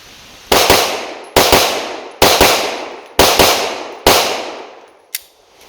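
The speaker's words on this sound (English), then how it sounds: "Now I will I will press the trigger as fast as I can." Five sharp handgun shots fired in quick succession at roughly one-second intervals, each loud and near with a decaying echo, followed by a fainter click at the end.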